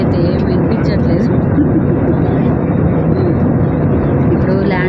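Airplane cabin noise during landing on a Hyderabad to Goa flight: a loud, steady broadband engine and air roar fills the cabin throughout, with no breaks.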